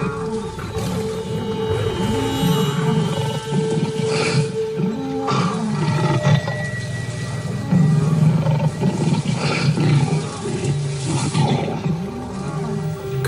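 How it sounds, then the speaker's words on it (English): Lions roaring at night during a hunt on elephants, repeated deep rumbling roars rising and falling over about thirteen seconds amid other wild animal calls, fairly loud and close, with no speech. "The roaring in the dark intimidates and confuses the elephants."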